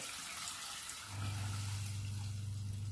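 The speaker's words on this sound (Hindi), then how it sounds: "मैंने इसमें 2 गिलास पानी डाल लिया है" Water runs steadily into a pot of chicken shorba, a low full pouring sound that settles into a sustained hum partway through, with no voices.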